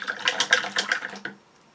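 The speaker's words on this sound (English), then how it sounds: "rinse it off in our water." A worn paintbrush swished and rinsed in a container of water gives short splashy sloshing bursts for about a second, then fades to quiet drips.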